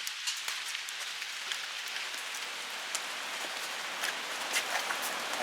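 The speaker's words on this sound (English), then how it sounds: "it's pouring down rain" Heavy rain pours steadily during a flood along a lake and river in Floyd County, Georgia, a dense continuous hiss of drops hitting surfaces with scattered louder patters and no voices.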